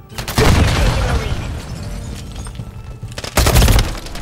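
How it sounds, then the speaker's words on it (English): Heavy booming blasts from a bazooka in Call of Duty MW3 multiplayer, a loud launch near the start and another deep boom later, amid scattered gunfire and battle noise. "shoot that bazooka out there"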